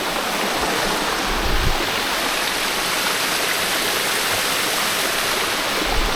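A mountain brook rushes continuously over rocks on a hiking trail near Cannon Mountain, a loud, close, steady wash of flowing water with no voices.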